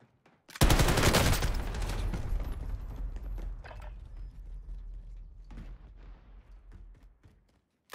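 Light machine gun fire in the Warzone video game starts as a loud, dense burst and trails into scattered, fading shots with mechanical clatter.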